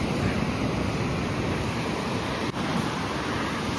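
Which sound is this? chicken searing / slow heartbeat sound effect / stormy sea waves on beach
stormy sea waves on beach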